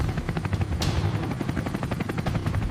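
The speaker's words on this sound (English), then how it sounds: "The Apache lands gently on Waterloo's field, its rotors slowing, fuel nearly depleted." An AH-64 Apache helicopter's rotors thump in a steady, fast rhythm, loud and close, as it comes down to land.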